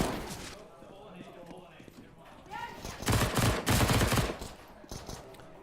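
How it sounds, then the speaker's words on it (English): Rapid bursts of MP9 submachine gun fire in a Counter-Strike match at the ESM E-League 2017 finals, growing loud and dense midway as several volleys overlap, with commentators talking throughout. "Cake's got a nice headshot and another one, just tapping with that MP9"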